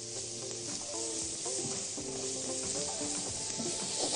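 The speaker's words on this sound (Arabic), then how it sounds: "على البصلة اللي انا بحمرها ديت" Onion frying in a pan, seasoned with black pepper and salt, a soft continuous sizzle and hiss with faint stirring scrapes, low and close, no voices.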